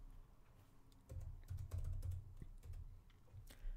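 Someone types quickly on a computer keyboard, giving soft, close, irregular clusters of key clicks with no talking.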